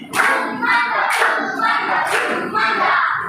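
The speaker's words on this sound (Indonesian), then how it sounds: "mari kita berikan tepuk mantap untuk kelompok 1" A primary school class claps a patterned 'tepuk mantap' cheer for a student group, several hands striking in a rhythmic sequence of grouped bursts, close and fairly loud, with faint voices mixed in.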